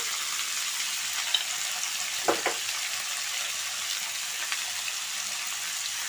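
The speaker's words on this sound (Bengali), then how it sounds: "দিয়ে ভালো করে নাড়িয়ে নিচ্ছি নাড়িয়ে ভেজে নিচ্ছি" Kohlrabi, potato and shrimp curry sizzles and fries steadily in a pan, with a few soft scrapes of stirring partway through; no voices.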